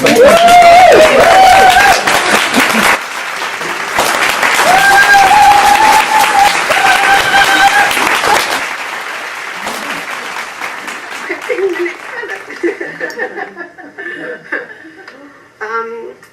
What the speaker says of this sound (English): Maybe we should start right at the beginning with a huge applause for Renata and Susan.